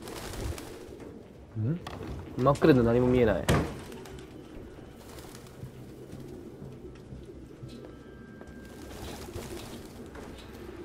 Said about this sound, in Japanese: どんだけ鳩おんねん